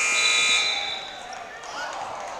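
End-of-game buzzer at a JV boys basketball game in a gym, Youngsville Eagles at Saegertown Panthers: a loud, steady electronic tone holding for about half a second and then fading under crowd noise and commentary.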